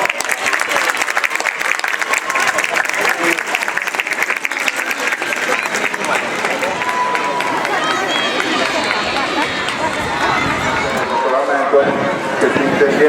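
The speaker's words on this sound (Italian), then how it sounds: "salutiamoli con un applauso" Applause for a line of firefighters at an outdoor demonstration, a long, loud burst of clapping that gradually thins and fades, with crowd chatter and a speaker's voice mixed in.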